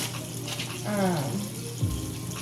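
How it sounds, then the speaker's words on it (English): Tap water running into a sink while someone washes their hands, a steady close splashing stream with faint voice-like tones over it. "first thing I'm gonna do is wash my hands because the club is dirty"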